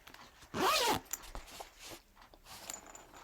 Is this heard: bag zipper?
yes